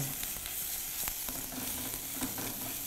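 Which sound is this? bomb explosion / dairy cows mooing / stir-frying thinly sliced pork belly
stir-frying thinly sliced pork belly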